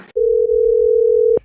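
A telephone call tone sounds as a single sustained steady beep lasting over a second, loud and clean against near silence, cutting off abruptly.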